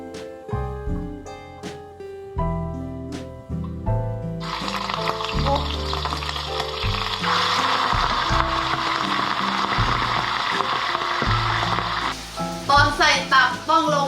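Musical notes play, then a bright, steady sizzle of oil in a wok on the highest heat takes over and continues loudly, with a few clinks near the end.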